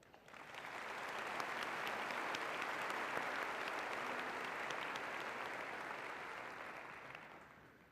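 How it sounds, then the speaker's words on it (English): Sustained applause from a large audience at a university commencement, steady and full for several seconds before slowly tapering off. "Please now join me in acknowledging them with your applause"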